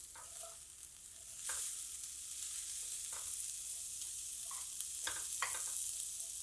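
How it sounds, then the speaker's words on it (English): Red chili powder and spices sizzle in a pan for a spiced potato and okra stir-fry, a steady soft hiss with a few scraping stirs of a utensil against the pan, no talk. "half a teaspoon of red chili powder. Stir it together."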